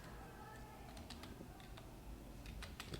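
Keys clatter on a computer keyboard during data entry in Tally ERP 9 accounting software, quick irregular taps in short bursts, near and soft beneath a low steady background hum.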